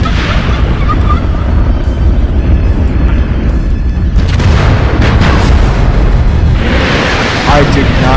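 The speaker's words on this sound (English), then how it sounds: "Oh my god! I just got destroyed by an airstrike." An airstrike explodes in MechWarrior Online, a very loud, booming, rumbling blast roaring on for seconds with a fresh surge near the end, a voice crying out over it.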